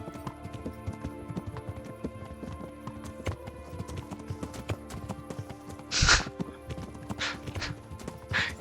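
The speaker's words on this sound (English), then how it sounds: "This is advanced horse riding." Horse hooves clip-clopping steadily during riding in the video game Kingdom Come: Deliverance, a close, rhythmic patter of footfalls punctuated by a few loud neighs or whinnies near the end.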